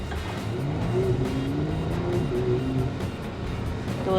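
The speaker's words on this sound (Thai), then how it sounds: "อันนี้จะเป็นสลาล่อมนะครับนะคก็คือการขับซิกแซกครับ" A Porsche weaving through a zigzag slalom course, its engine note rising and falling in smooth swells with a muffled interior drone, steady and moderately loud throughout.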